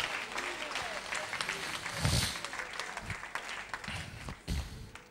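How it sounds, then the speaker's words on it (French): A church congregation claps during a French-language service, a faint, fairly distant patter of many hands with a few heavier thumps, under a low murmur of voices. "Applaudissez le Seigneur."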